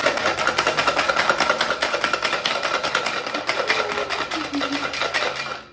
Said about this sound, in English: the more you shake, the more frothy that espresso will get